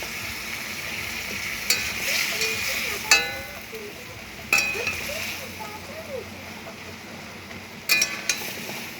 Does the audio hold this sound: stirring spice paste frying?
yes